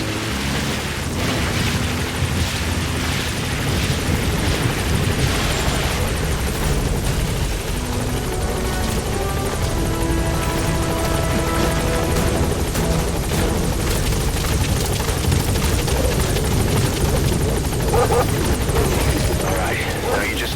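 A support helicopter's rotor thrums steadily and loudly throughout as it arrives at a landing zone in the video game Metal Gear Solid V, mixed with game music and voices talking over it.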